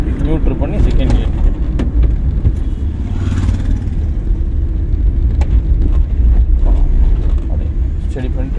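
A car engine drums steadily at low revs during a driving lesson, loud and close from inside the cabin, with the instructor talking over it.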